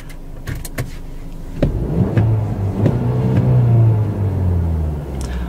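A 2016 Mercedes-Benz E200 W213 Sport revs in park up to its 4000 rpm limiter, the engine note climbing and holding loudly and close, with a few clicks before it starts and a fade as it settles.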